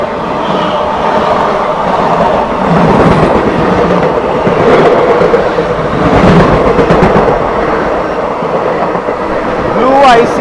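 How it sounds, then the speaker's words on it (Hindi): Danapur SMVT Bangalore Special train, ICF coaches, passing in the opposite direction, heard from aboard the Jharkhand Sampark Kranti Express as a loud, continuous rumble with clattering throughout. "सामने की ओर से जो आप लोग ट्रेन आते हुए देख रहे हैं वो आ रही है दानापुर SMVT बैंगलोर स्पेशल"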